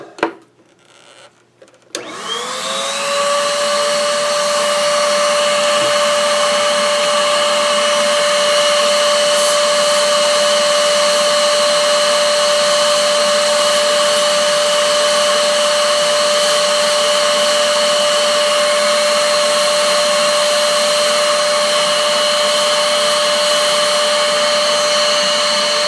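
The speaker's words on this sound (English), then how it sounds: "Good thing we have a nice handy dandy little vacuum nozzle to clean her out now." A vacuum cleaner fitted with a small nozzle cleans out the inside of a laptop, starting with a clunk and rising to a loud, steady whine with a sustained tone that runs on unchanged.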